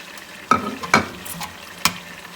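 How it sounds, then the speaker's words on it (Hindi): Mutton being roasted in a pot for Arabic kabsa, a soft sizzle broken by three sharp scraping stirs of a spoon against the pot, close and without talk. "मज़ीद हम लोग 10 से 12 मिनट के लिए इसको भूनेंगे"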